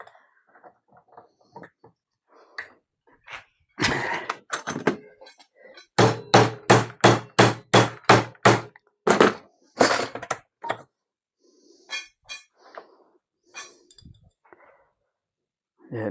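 A hammer strikes a bicycle part in a workshop, bending its tip to curve around the bar. About a dozen sharp metallic whacks land in a quick, steady run, with scattered lighter taps before and after.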